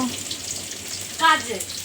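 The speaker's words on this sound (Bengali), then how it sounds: "মাছটা ভাজা হচ্ছে" A rohu fish sizzles in a pan of hot oil in a home kitchen. The frying is close and steady through a brief moment, and a faint voice is heard near the end.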